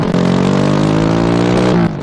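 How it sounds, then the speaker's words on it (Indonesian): A motorcycle engine revs in an animated show, a loud, close, buzzing mid-pitched drone that holds steady and then cuts off near the end. "itu pasti suara motor Reo"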